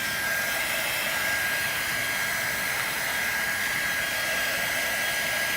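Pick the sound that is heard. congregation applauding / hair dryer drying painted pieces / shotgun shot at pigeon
hair dryer drying painted pieces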